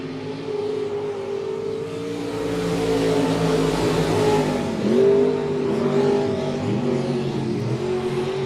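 Race cars roar around the track at Monett Motor Speedway during a feature race, a loud sustained multi-engine drone that swells as the pack passes nearby, with no talk over it.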